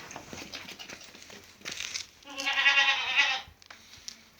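A purebred Damascus (Aleppo) goat lets out one loud, wavering bleat lasting about a second, close to the listener, after softer rustling and animal noises.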